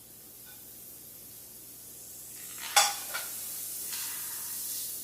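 Thin slices of leftover T-bone steak warm in a hot pan, giving a faint steady sizzle, a sharp clatter as the meat goes in, then a brighter frying hiss that carries on alone.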